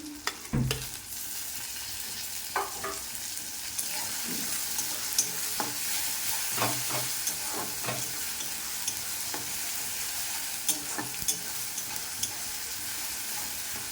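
Chopped tomato and green chili fry in a pan with onion for a meat ghugni, a steady sizzle running throughout, broken by repeated scraping stirs close by.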